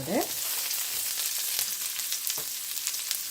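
Mustard, fennel and fenugreek seeds fry in hot oil, giving a steady bright hiss broken by scattered sharp pops and crackles throughout, close up, with no voices.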